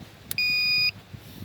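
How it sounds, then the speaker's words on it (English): A single steady electronic beep sounds from a camper's battery power panel as it switches on, a clean high tone of about half a second, close and clear, with faint clicks around it. "And you hear that beep, it comes on."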